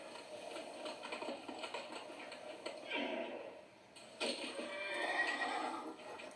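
A horse in the video game Ghost of Tsushima whinnies loudly twice while hooves clip-clop underneath, close and clear, with game ambience around it.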